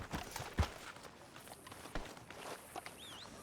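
A horse walks along in Red Dead Redemption 2, its hooves giving a soft, uneven clip-clop at moderate distance over light game ambience.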